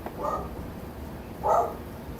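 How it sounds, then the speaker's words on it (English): Dogs barking somewhat distantly during a carburetor rebuild in a workshop, with two separate barks about a second apart over quiet background noise. "Dogs are barking."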